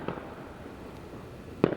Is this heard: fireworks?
yes